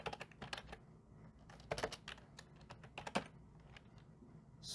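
Irregular bursts of keystrokes on a computer keyboard while entering commands in a terminal during a TFTP connection, clattering in uneven clusters at moderate volume with a low background hum.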